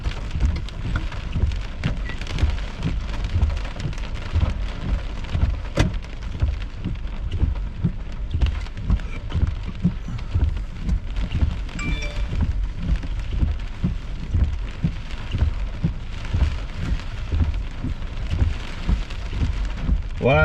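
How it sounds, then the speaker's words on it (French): Heavy thunderstorm rain with hail around Longueuil and gusting wind, a dense, steady roar of downpour drumming on surfaces, loud and continuous from start to finish. "beau rideau de pluie"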